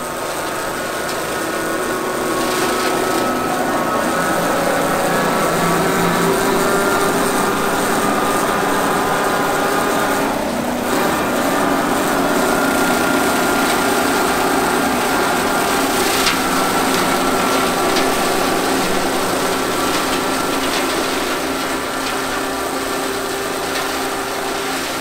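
A powered hedge trimmer buzzes continuously while cutting an overgrown barberry hedge during an annual trim, a steady high-pitched motor drone with brief dips as branches are cut.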